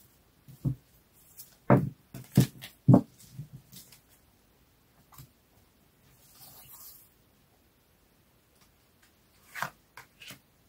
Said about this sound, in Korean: 그럼 카드 뽑아 볼게요.